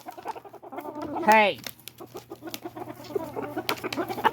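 Backyard Silkie chickens, a mix of hens and roosters kept with ducks in a winter pen, cluck steadily nearby, with one loud rising squawk standing out midway.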